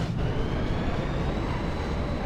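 Inside Final Fantasy 8 Remaster, a train bound for Delling City rumbles as it departs, a steady low mechanical drone with a faint rising whine above it, continuous and fairly loud throughout.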